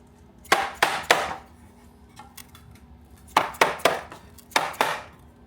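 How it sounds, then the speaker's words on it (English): Dead blow hammer tapping a fang part onto a OneWheel Pint, three groups of sharp close knocks, three or two strikes each in quick rhythm, separated by quiet pauses. "get a mallet and just tap this thing in"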